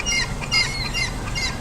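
Seagulls squawk repeatedly and fairly close by at a game farm, their shrill calls overlapping in quick bursts over a steady rumbling background.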